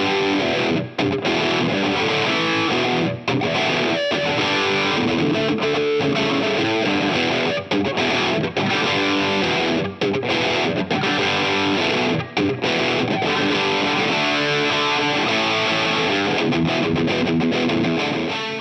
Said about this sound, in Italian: i due pedali in serie per un bel suono rock distorto